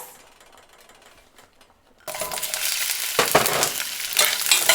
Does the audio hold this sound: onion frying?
yes